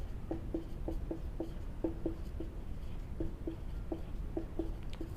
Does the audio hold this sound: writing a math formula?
yes